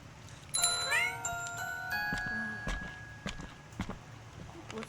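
A cartoon cat in a robot-themed video game lets out a high, rising meow, followed by scattered clicks and light tapping game sounds, close and clear over a steady background hum.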